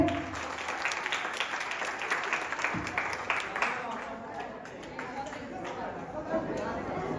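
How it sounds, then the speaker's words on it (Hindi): An audience at a public gathering in Bihar claps in a dense, continuous patter of applause, with crowd chatter and voices mixed in throughout. "सभी लोग ताली बजाइए।"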